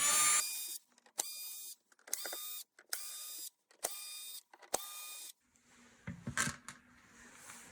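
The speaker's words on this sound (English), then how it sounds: "remove the 6 screws holding the base in place." Whirring bursts from a powered screwdriver back out screws from the base of a Gardiner backpack sprayer, six short runs separated by clicks and pauses, followed by softer rattling handling of the plastic parts, close and clear.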